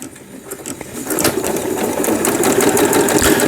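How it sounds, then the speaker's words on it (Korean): A Riccar Quilt Made home sewing machine, just repaired, stitches steadily. Its rapid, even mechanical whirr and clatter is close and loud, and it builds slightly as it runs. "다시 스타트 하니까 박음질 되고 있고"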